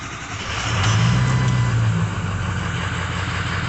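Ford 6.0 Power Stroke diesel engine with an upgraded 6.7 starter cranking briefly and catching, rising into a loud, rumbling idle heard up close.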